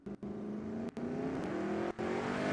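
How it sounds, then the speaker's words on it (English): Dodge Durango Hellcat at a drag race, its engine holding a loud, steady high-rpm drone with a rising pitch, broken by three brief dips, close and alone with no talk. "Here's Eric Daniels in the right lane, the Dodge Durango Hellcat."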